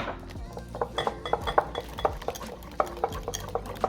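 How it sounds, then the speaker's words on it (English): Whisk clinking rapidly against a bowl while beating an egg mixture with vanilla and cinnamon, a close series of bright metallic taps and scrapes in an uneven rhythm over quiet background. "Gotta get it all well mixed. That way the cinnamon doesn't settle at the bottom."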